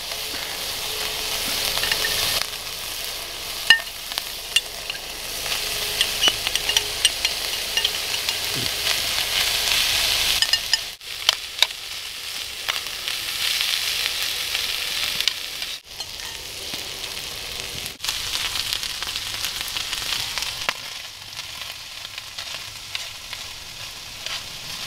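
Rösti with sauerkraut fries in a pan on a Bushbox camping stove, a steady moderate sizzle running throughout with scattered sharp pops and a few brief dips.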